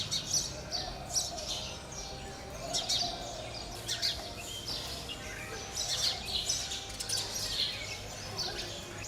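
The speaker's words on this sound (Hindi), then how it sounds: "चिड़ियों की चहचहाहट से ये घर गूंजता रहता है।" House sparrows nesting throughout an old house in Lucknow chirp steadily in a dense, busy chorus, with many overlapping tweets at moderate distance.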